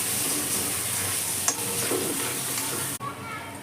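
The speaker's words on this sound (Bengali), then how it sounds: "আলু দিয়ে মশলাটাকে আবার একবার খুব ভালো করে নেড়ে নেবো।" Spatula scraping and stirring potatoes with spices in a hot wok, with a steady sizzle underneath and a couple of sharper knocks against the pan.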